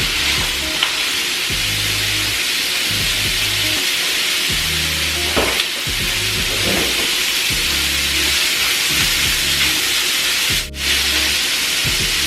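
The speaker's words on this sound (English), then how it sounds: "so the griddle's nice and hot, so I'm gonna go ahead and throw all this sausage on here" Two pounds of sausage sizzling and frying on a hot griddle, a steady close crackle throughout with occasional scraping and stirring, no talking.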